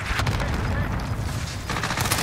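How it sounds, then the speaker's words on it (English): Cluster strike explosions in a video game, a dense barrage of booming blasts and crackling impacts that roll on continuously, loud and close, with a brief lull before another burst. "Enemy cluster strike incoming."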